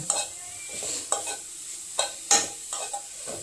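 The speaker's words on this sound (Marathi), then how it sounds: "त्याच्यामध्ये थोडंसं तूप टाकलं आणि तुपामध्ये असं व्यवस्थित छान परतवून घे" Carrots sautéed in a little ghee for carrot kheer, a soft sizzle broken by a series of distinct scraping stirs of a spoon in the pan, close and fairly quiet, with no voices.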